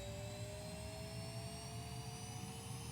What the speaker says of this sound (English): the afterburner.